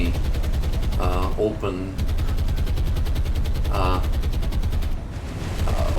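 Naval guns on a warship in the video game War on the Sea fire in rapid bursts, a dense rattling barrage of repeated shots that runs steadily throughout, with someone talking over it in two short stretches.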